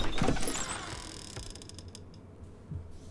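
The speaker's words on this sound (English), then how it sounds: "We're just going to make all of these creaky" A creaky door opening sound effect in the Foundry VTT tabletop software, a drawn-out mechanical creak that starts loud with a sharp scrape and fades into a rattling, ratchet-like squeak over about three seconds.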